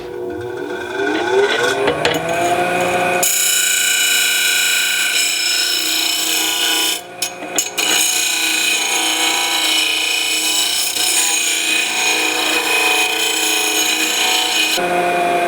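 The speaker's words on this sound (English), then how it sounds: "So let's use our disc sander." Loud, continuous abrasive grinding of a spinning disc sander against the edges of steel tube, rising as the work is pressed in, with a short dip midway; no voices.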